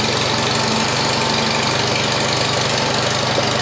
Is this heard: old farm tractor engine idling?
yes